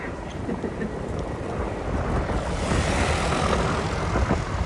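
A steady, loud roar of a helicopter overhead above Grand Army Plaza, Brooklyn, broad and rushing like rotor wash, fills the whole clip without pause.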